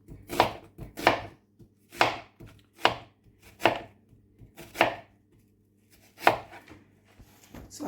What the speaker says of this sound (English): So now I'm slicing my onion.